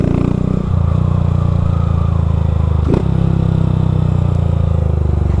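A Honda Fan 160 motorcycle fitted with a Dore exhaust drones loudly while riding at night, the engine note steady and rumbling throughout with a brief clatter near the middle.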